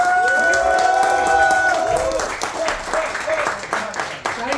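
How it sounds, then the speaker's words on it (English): Audience applause and cheering at an improv comedy show as a performer comes on stage, a dense wash of clapping rising over musical tones and chatter, loud and close throughout. "Happy round of applause for Sahil"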